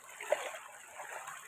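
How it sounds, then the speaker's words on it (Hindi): A flowing waterfall splashes and rushes in a steady, soft wash of water sound, with no talking. "ये खूबसूरत सा पानी का बहता हुआ झरना"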